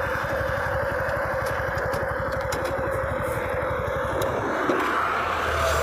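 Suzuki Gixxer SF150 155cc motorcycle engine running flat out at top speed, a steady loud drone with strong wind rush throughout, close and continuous with no talk.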